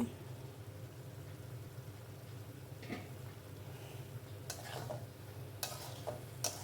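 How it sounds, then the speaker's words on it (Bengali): Egg curry cooking in a pan on low heat, a soft, faint bubbling sizzle with a few brief scraping stirs toward the end. "একটু নাড়িয়ে নিলাম।"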